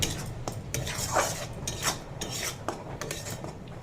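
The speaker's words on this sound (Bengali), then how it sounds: "এবারে ভালো করে মশলাটার সঙ্গে কষিয়ে নেব" Potato and pointed gourd sautéed with a poppy seed and cashew paste spice mix, a spatula scraping and clinking against the pan in quick repeated strokes over a low sizzle.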